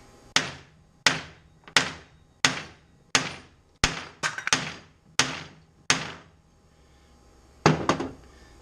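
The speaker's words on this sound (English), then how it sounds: "when you're hammering on it, you're pushing that metal out and expanding it" Repeated sharp hammer blows on metal during hand metalworking, with the part clamped in vise grips, about a dozen loud, close strikes with ringing decay at an irregular pace and a pause before two final hits.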